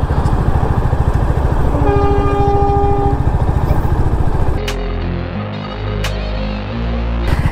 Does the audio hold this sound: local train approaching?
yes